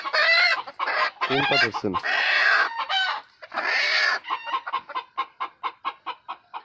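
Six native hens cluck in a series of short, evenly spaced, fairly close calls, following a stretch where a person talks over them and the birds call alongside.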